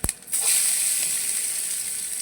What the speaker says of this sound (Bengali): ওই তেলের মধ্যে পাঁচ ফোড়ন দিয়ে দিলাম আর পেঁয়াজ কুচি দিয়ে দেবো